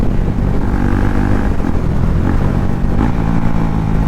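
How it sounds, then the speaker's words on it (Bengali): A KTM Duke 390 motorcycle downshifts on the road with a loud, continuous engine drone close to the microphone and small shifts in pitch as gears change. "ডাউনশিফটের সাউন্ড কেমন লাগলো গাইজ"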